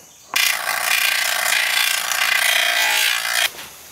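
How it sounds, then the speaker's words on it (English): A part removed during a Wrangler fender flare install on a Jeep Cherokee XJ is held against a grinding wheel, giving a loud, steady, hissing grind that runs unbroken for about three seconds and then cuts off. "And then I'm going to take it over to the grinding wheel"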